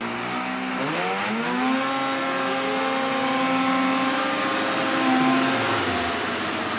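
An Arctic Cat 858 snowmobile engine runs on a dyno after break-in with a clutch kit fitted, droning steadily and loud, its pitch sweeping up then holding high before easing near the end.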